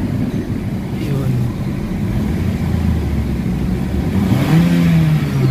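A 2017 Toyota Altis engine with a throttle delay fault revs up steadily, its pitch climbing toward the end, with some talking mixed in underneath.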